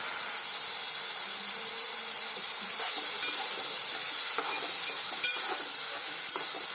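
Tomato gravy sizzles steadily in a pan, a close, even hiss of frying with faint scrapes of a spoon stirring through it, continuing without pause.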